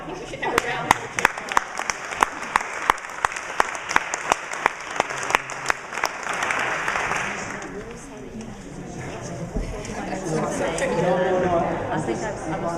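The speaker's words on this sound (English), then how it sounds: "I think we should have a round of applause." At a party leadership hustings in Manchester, a few sharp, evenly spaced single claps ring out before a fuller round of crowd applause builds up, mixed with murmuring voices and talk.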